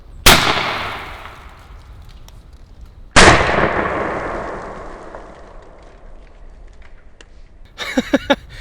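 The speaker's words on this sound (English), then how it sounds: "Let's do some double blast with my number 7 shot on some sodas." An AEA 12 gauge Magnum harpoon air shotgun loaded with number 7 shot fires twice outdoors at a 12 ounce soda, giving two loud sharp blasts with long echoing decays, then faint crackly rustling.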